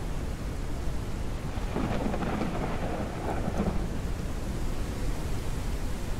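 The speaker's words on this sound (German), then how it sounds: "Wir müssen tatsächlich warten, bis der Sturm vorbei ist." Thunderstorm in the game Forever Skies, with a steady wash of rain and a low, swelling rumble of thunder building in the middle, continuous and fairly loud with no voices.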